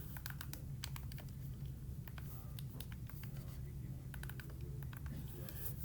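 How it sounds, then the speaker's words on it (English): Numbers are keyed into a calculator in a short run of quick, light taps, several clusters of presses over a faint steady hum, fairly close and quiet. "So let's type this into our calculator."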